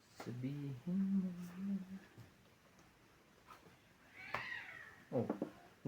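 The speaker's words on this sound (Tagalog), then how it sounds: "galit na pusa sa kanta ko" An angry cat meows in a few short, strained cries and a drawn-out yowl, fairly faint amid a quiet indoor room, with a person's voice briefly audible.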